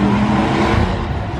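A cammed 3V Mustang GT V8 with Hot Rod Cams and a Corsa exhaust, revving loud and close in a brief, steady, choppy burst with no talk over it.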